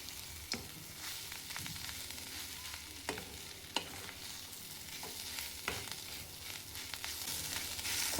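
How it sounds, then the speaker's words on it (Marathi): Guar beans and green chillies fry in a pan with a steady, low sizzle, punctuated every second or so by soft clicks and scrapes of stirring, fairly quiet and with no voices. "ते शेंगा आणि मिरची एकत्र बनवून घ्यायचे."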